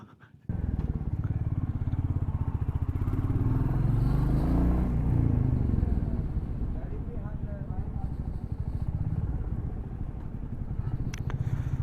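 A motorcycle rides through the narrow, sloping lanes of Nathdwara, its engine a steady close drone that swells and eases, while a rider talks over it.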